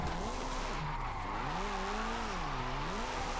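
Nissan 240SX drifting in the Forza Horizon 5 video game, a steady engine drone with a pitch that wavers up and down as the car slides, alongside a constant hiss of tire noise.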